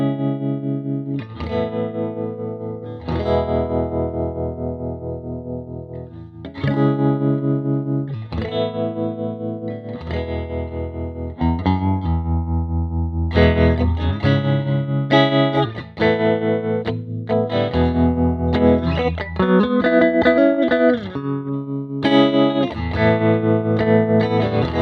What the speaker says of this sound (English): Playing around with the tremolo on this is really fine-tuned.